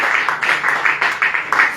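Worshippers in a church clapping and cheering loudly, rhythmic bursts of applause pulsing steadily for under two seconds.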